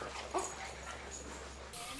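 Dogs play together at a dog daycare, with a brief yip and faint whimpering over a steady low hum of the room, while someone talks quietly in the background.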